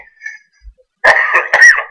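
A man breaks into a harsh coughing fit, two or three loud, rough coughs close to the microphone after a quiet opening with faint background sounds.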